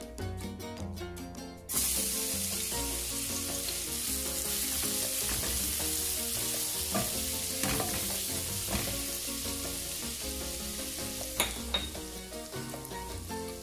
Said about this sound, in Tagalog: Igisa na natin yung garlic.